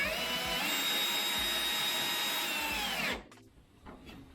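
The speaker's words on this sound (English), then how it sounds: "this should now screw into the nut quite nicely" A power driver whirs steadily for about three seconds as it screws a bolt into an insert nut in a wooden storage cart, then cuts off abruptly, followed by faint handling noises.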